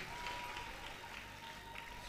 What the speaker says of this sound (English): Give the Lord a big clap of hand as you take your seat.